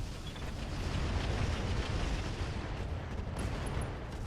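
Mech weapons and long-range missiles firing together in the RogueTech game, a continuous loud roaring barrage of blasts and rumble that holds steady for several seconds.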